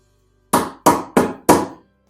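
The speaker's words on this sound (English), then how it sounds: "Just gonna use some snips and cut these off." Snips cutting brittle old fender bolt clips off a Volkswagen Beetle under restoration: four sharp snapping cuts in a steady rhythm, close and loud, with silence around them.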